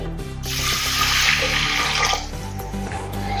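Tap water runs into a pressure cooker to rinse toor dal lentils in a home kitchen, a close, splashing gush that swells for about two seconds, then settles into lighter trickling and sloshing.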